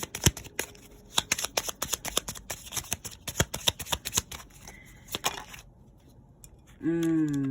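Tarot cards shuffled by hand in rapid, crisp riffling bursts at close range for several seconds, then stopping, followed by a moment of quiet and the start of a voice.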